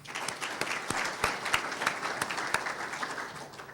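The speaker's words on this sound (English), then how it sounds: "Let's give these folks a round of applause." Brief scattered applause from a modest audience at a regional school launch event, individual claps distinct and fairly close, fading toward the end.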